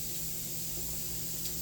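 Tap water running into a kitchen sink to make soapy dishwater, a steady close hiss of flow with no talk.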